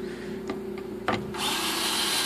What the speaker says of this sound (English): Drilling in A